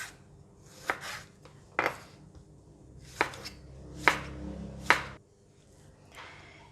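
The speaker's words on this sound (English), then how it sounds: "for the spring onion, tomato, we're going to cut it into" A kitchen knife cuts spring onion and tomato into pieces on a cutting board, giving about half a dozen sharp, close, separate chops spaced irregularly with short gaps between them. No voices are heard.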